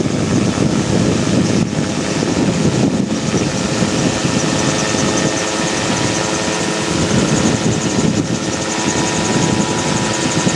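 Magni M16 gyrocopter in flight on practice circuits: a steady, loud engine drone with rotor chop and rushing wind noise heard from inside the open cockpit, continuous throughout with no talk.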